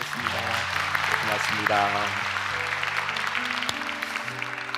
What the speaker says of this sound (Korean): 우리 박수로 축복하고 환영하겠습니다.